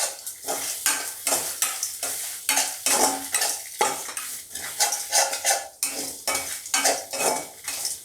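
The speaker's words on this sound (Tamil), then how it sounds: "இப்போ துருவி வச்சுக்கிற தேங்காய் அதையும் அதோட ஒன்றா போட்டு வறுத்துக்கிறேன்." Grated coconut is roasted in a pan for a Chettinad chicken gravy and stirred with a metal utensil, giving rhythmic scraping strokes over a soft background sizzle, close and fairly loud, with no talking.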